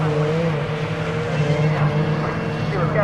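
Rear-wheel drive BMW race cars with 3.2 litre engines race at Croft circuit in a 750 Motor Club event, giving a loud, steady engine roar with shifting pitch across the whole stretch.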